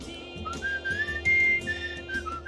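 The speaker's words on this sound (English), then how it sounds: "We're gonna whistle our way along the river." Whistling in the video game Where the Water Tastes Like Wine, a clear melodic tune of sliding sustained notes along a river, heard alone over a low background hum.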